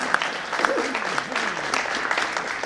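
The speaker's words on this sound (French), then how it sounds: "Vous pouvez l'applaudir très fort" Audience at a careers forum applauds steadily, a dense and fairly loud wash of clapping filling the short moment, with a few voices faintly underneath.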